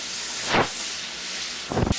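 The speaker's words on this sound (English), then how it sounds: "it's cooking, it's loud, it's cooking, it's frying well" Constant hissing sizzle of chicken frying in hot grease, with a couple of brief louder crackling bursts, close by and no speech.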